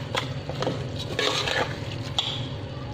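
Spoon stirring potato mince with black pepper and garam masala in a pan, giving soft scraping and clinking strokes over a low sizzle, close and moderately quiet.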